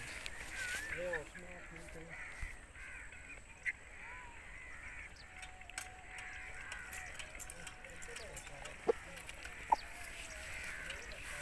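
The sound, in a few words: Aseel rooster, fighting chicken breed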